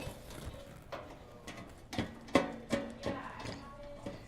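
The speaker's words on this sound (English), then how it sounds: "And now we will loosen the 2 inside screws that hold the top of the back panel." Screws on the back panel of a Profitec Pro 700 espresso machine are loosened with a tool, giving a series of quiet, close ratcheting clicks and taps in an uneven rhythm.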